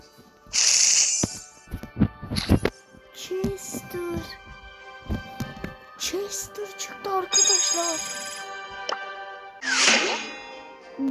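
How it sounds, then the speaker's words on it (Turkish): A phone ringtone plays in bursts of bright tonal melody amid game sound effects and thwacks during a Turkish gaming session, with people talking over it. "Telefon"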